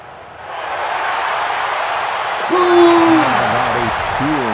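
A crowd in a PGA Tour video game applauds a golf shot with a steady wash of clapping and cheering that swells briefly, while a voice speaks over it toward the end.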